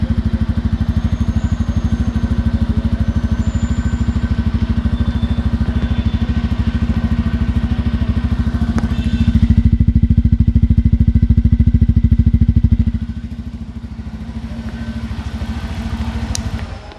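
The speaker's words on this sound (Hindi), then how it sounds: "बाइक स्टार्ट करके आपको एग्जॉस्ट साउंड भी सुना देता हूँ।" A 2022 Bajaj Pulsar F250 idles steadily with a low, even exhaust thrum, revving slightly louder around the tenth second before settling back to a quieter idle, heard close and alone.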